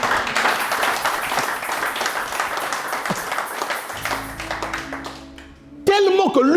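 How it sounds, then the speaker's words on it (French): A church congregation applauds, dense steady clapping filling the first several seconds before thinning out, then a loud voice cuts in near the end. "Acclame un peu, acclame."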